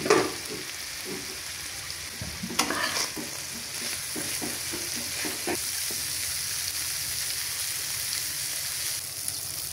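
A covered pan of dried fish mixed with coriander leaves simmers toward a boil, giving a steady close sizzle and bubbling hiss with a few light scrapes and knocks early on.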